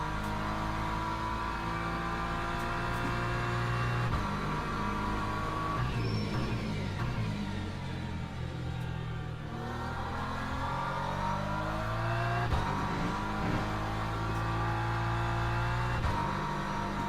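A race car engine in Le Mans Ultimate drones steadily, its pitch climbing through the gears with repeated rising sweeps and brief dips at shifts, heard from onboard at a moderate level with no talking.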